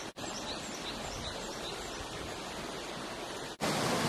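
Water draining out of a small rural fish pond, a steady unbroken rush of flowing water that holds an even level from start to end.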